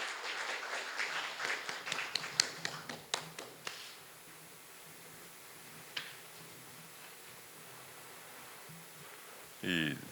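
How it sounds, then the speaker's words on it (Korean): Scattered handclaps from a business forum audience greet a speaker heading to the podium, a handful of sharp separate claps that thin out and fade to near silence, with a brief rustle at the end. "여러분 큰 박수로 환영해 주시기 바랍니다."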